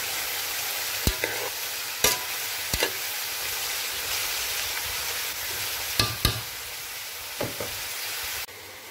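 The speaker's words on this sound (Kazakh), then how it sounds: "5-7 минуттай тағы қуырамыз." Onions frying in a pan with water added, a loud continuous sizzle broken by sharp clacks of a utensil scraping and knocking against the pan at irregular intervals, no voices.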